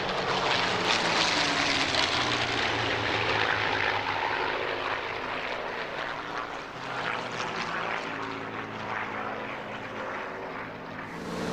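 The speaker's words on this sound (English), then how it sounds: "Seeing so many Battle of Britain types in the sky was very emotive, especially as the aircraft were demonstrating actual World War II combat formations." Several World War II Battle of Britain era propeller aircraft fly overhead in combat formation at an air show, a steady, full engine drone holding throughout with slight swells, no voices.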